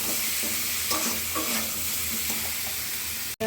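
Potatoes with turmeric, salt, chopped tomato and green chili sizzle loudly while being stir-fried, a continuous frying hiss with occasional spatula scrapes, ending in a short knock.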